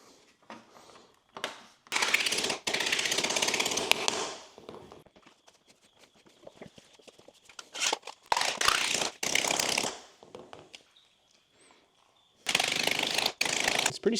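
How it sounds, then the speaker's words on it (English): Makeshift sheet metal brake bending metal, with several loud bursts of creaking, clattering metal mechanism separated by quiet pauses. "It's my makeshift sheet metal brake right here."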